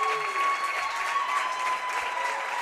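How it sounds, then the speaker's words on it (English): A crowd at a racquetball match applauds after a long rally at the 2017 Pan Am Championships women's singles final, steady close clapping filling the whole stretch. "Both players need to be applauded, which the crowd is doing."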